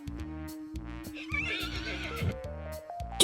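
On a farm, a horse gives a loud, close whinny with a bright, wavering pitch, backed by low, rhythmic thumps that may be hooves.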